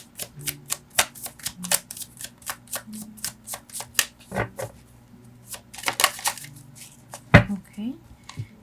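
Tarot cards are shuffled by hand in a run of quick, crisp riffling bursts and flicks, close up, with a brief pause and then a louder final snap of cards.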